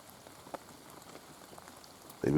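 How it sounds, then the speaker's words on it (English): Steady soft rain pattering on a hide during a wet squirrel shooting session with air rifles, a continuous fine patter with a louder burst of close contact at the end. "The rain patches down on the hide."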